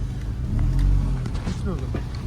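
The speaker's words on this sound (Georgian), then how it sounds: "ვიღაც მანქანა ადის. აი იმას გავყვეთ იმით." A car engine drones steadily with a low rumble, working under load as it climbs a mountain road in Svaneti, Georgia, while people talk over it.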